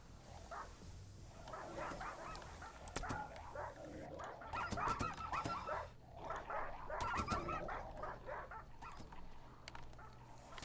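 Several dogs barking in the colony game Rimworld, with repeated distant yaps and barks mixed among other animal calls over a steady low game background, with no one talking.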